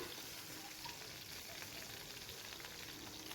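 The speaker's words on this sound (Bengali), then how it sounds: "ভালো করে লাল লাল করে মাছটাকে ভেজে নিতে হবে" Tilapia pieces frying in oil in a wok, a continuous faint crackling sizzle with no breaks and no voices.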